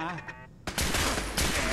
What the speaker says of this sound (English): Those laser turrets do a lot of damage.